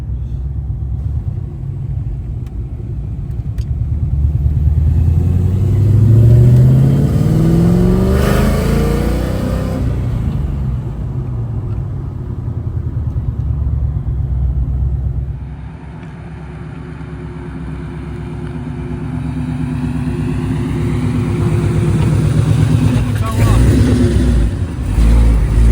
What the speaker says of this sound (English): Like this is how a car is supposed to sound.